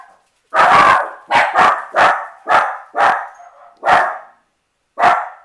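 A dog indoors barking sharply and repeatedly, about eight loud, close barks in an uneven rhythm with short pauses, alone without talking.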